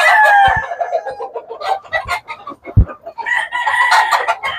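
McLean gamefowl rooster at a gamefowl farm, crowing loudly and close alongside clucking and other fowl calls, with scattered farm noises.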